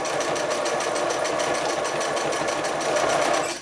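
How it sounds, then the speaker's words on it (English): A sewing machine runs steadily, stitching a chenille scarf in a fast, even mechanical whir that is close and unbroken, then stops at the end. "and then just sew to the end."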